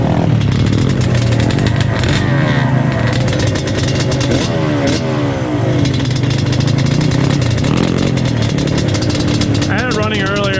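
A Yamaha Banshee 350 two-stroke ATV engine with an exhaust leak runs loud and close, with repeated revs rising and falling under continuous raspy exhaust noise.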